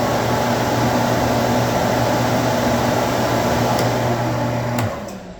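A loud Prolux wide area vacuum's motor and spinning brushes run together in a warehouse as a steady, droning hum with hiss, cutting out just before the end.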